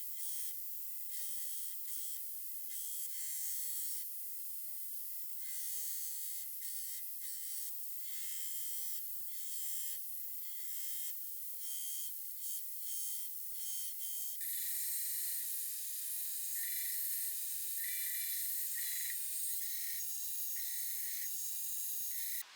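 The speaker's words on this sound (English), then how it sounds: "we'll go back to the grinder and grind this out." A grinder works a multi-bar twist Damascus steel Bowie knife blade, giving a continuous high, hissing abrasive rasp with frequent short pressure changes as the steel is pressed and lifted, steady and close.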